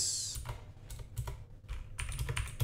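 Rapid typing on a computer keyboard while someone writes HTML and PHP code, with quick clusters of light key clicks close up and short pauses between bursts. No one speaks.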